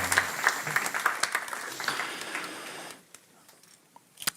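Applause from a conference audience for a speaker at a cities event, moderately loud and dense clapping for about three seconds that drops off abruptly, leaving a few scattered faint claps.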